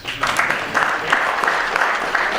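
Round of applause from a lecture audience during award nominations, clapping of moderate density with slightly uneven bursts, brief and close with no talk over it.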